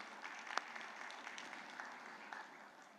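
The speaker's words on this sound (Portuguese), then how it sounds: "recebam com essa calorosa salva de palmas" An audience at a corporate panel event gives steady, distant applause, a faint continuous patter of many hands clapping with a few sharper claps standing out.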